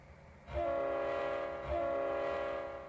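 A diesel locomotive in the Trainz 2022 railway simulator throbs steadily as it starts to pull away, with a droning, horn-like tonal hum that swells twice, loud and close, and no voices.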